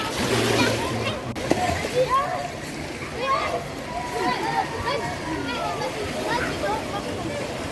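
Swimmers splash and slosh in an outdoor swimming pool on a hot summer day, a steady wash of churning water close by, mixed with children's and adults' voices chattering throughout.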